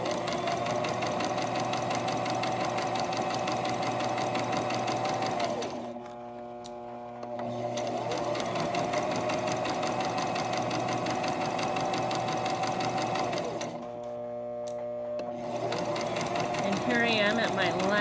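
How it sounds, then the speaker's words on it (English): A domestic sewing machine stitching a seam on a fabric hair scrunchie, running with a loud, steady mechanical whir and two short pauses before it starts again. "now I'm going to take it off my sewing machine"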